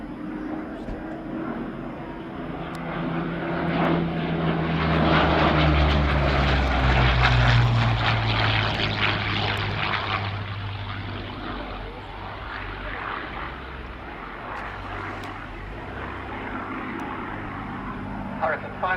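A Hawker Hurricane propeller fighter flies past at an evening air display at Shuttleworth, its engine drone swelling as it nears and fading as it moves away, with an announcer talking over the aircraft.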